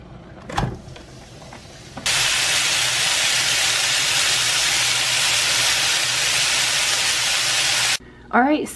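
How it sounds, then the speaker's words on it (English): Shrimp and peppers sauteing in a pan give a loud, steady broadband hiss and sizzle that starts abruptly and holds for about six seconds, with brief voices before and after it. "So I'm going to go ahead and get these sauteing up."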